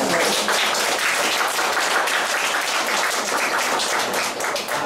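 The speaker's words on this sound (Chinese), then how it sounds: "是说我们的董事长一个热烈的掌声。" A press-conference audience gives the chairman warm, sustained applause at a hospital book launch. Dense clapping from many hands fills the room, steady and fairly loud, and fades slightly at the end.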